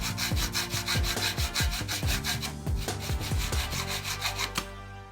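A saw cuts through aluminum stock propped up on a block to stop binding. It makes a quick, regular run of rasping back-and-forth strokes, loud and close, with no voices.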